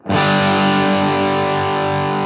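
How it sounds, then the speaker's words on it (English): A single distorted electric guitar chord through an early-1970s Marshall Plexi amp turned up about halfway, struck hard and left ringing, loud and saturated, holding steady as it sustains. "This is a early 70s Marshall Plexi."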